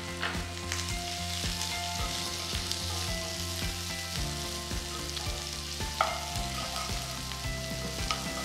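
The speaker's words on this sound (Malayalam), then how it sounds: "ലൈറ്റ് ബ്രൗൺ കളറാകുന്ന വരെ സോട്ടേ ചെയ്യാം" Shallots sauté in oil in a pan while cooking mutton chukka, a steady close sizzle broken by regular scraping and stirring strokes of a spoon against the pan.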